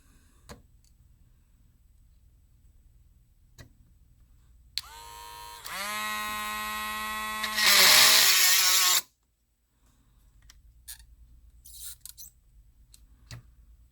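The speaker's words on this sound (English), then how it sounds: "the nuts are so close to the top of the casing that the drill bit gets stuck in them" An electric drill whirs up to speed with a rising whine, grinds loudly for a few seconds as the bit catches on nuts in a laptop casing, then cuts off abruptly. Soft handling clicks follow.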